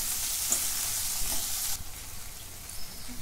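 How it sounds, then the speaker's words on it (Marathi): Onion and tomato fry in a pan with a steady, bright sizzle that fills the clip. The sizzle drops to a quieter crackle partway through, with faint stirring and no voices. "टोमॅटो पण जरा 2 मिनिटं भाजून घेतला।"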